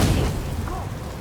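A detonation spell exploding in the fantasy role-playing game Pathfinder: Wrath of the Righteous, a loud deep boom at the very start that rumbles and fades over about a second.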